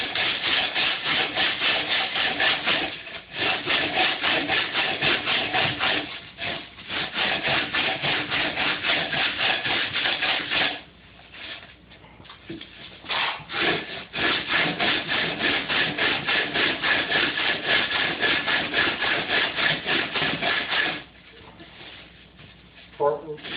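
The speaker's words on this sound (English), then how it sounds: "Just keep your rasp going and keep your foam piece moving." A hand rasp files a foam piece carved into a fake rock, giving steady, close, scratchy strokes in long bursts with short pauses between them.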